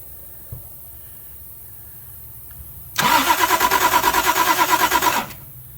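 A Toyota Supra that has sat for 27 years cranks over, its starter churning in a fast, even rhythm for about two seconds, loud and close, then cutting off without the engine catching.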